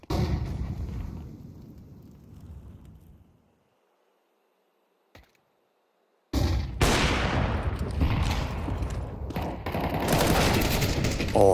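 Bursts of gunfire from a Counter-Strike match, first a sustained loud barrage, then a near-silent gap with one sharp crack, then dense rapid shots and explosions resuming at close range under faint commentary.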